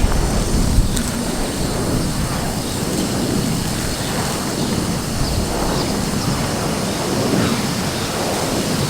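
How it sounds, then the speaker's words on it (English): Water gushing from a newly hooked-up well hydrant at an old mansion under restoration, a loud, continuous rushing hiss that holds steady throughout. "We should have water now if we turn that on."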